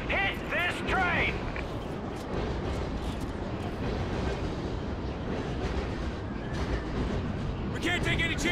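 A train in the video game Call of Duty: Ghosts rumbles with a dense, steady mechanical roar throughout, with voices talking over it at the start and end.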